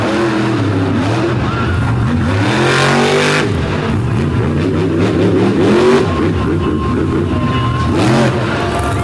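Uproar, a Monster Jam monster truck running electronic fuel injection, roars into the Hernando County Fairgrounds arena, its loud engine revving up and down in surging waves throughout, close and powerful.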